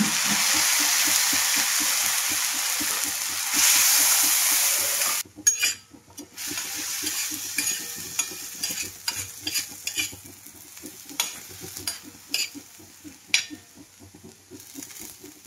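Dried red chillies frying with onions in oil, starting as a loud steady sizzle, then giving way to rhythmic scraping and stirring strokes in the pan, with a softer hiss underneath, all close up.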